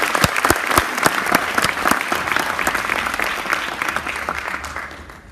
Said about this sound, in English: So let's give our judges a round of applause